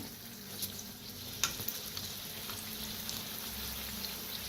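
Kachori frying in hot oil, a steady close sizzle and bubbling with a few soft pops and stirring touches throughout.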